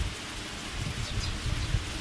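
Light rain patters steadily over an open farm field, a soft, even wash of drops with faint low rumbling underneath and no voices.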